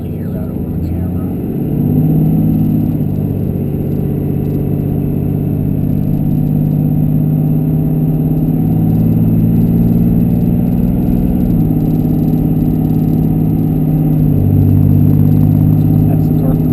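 A Cummins diesel truck engine pulls hard from a heavy launch, its steady drone climbing and dropping through gear shifts as the torque converter locks up, loud and continuous throughout.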